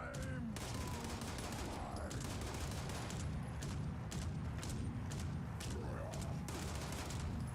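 Rapid gunfire from a newly acquired gun aimed at a super mutant in Fallout 4, a dense, steady barrage of shots running unbroken through the whole stretch at a fairly quiet level.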